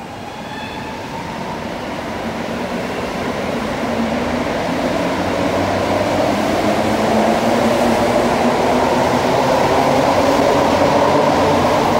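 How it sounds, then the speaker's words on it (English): A Montreal metro MR-73 train departing Lionel-Groulx station, a rising electric motor whine with rolling rumble that builds steadily louder over several seconds as the train accelerates away from the platform. "And there goes the train."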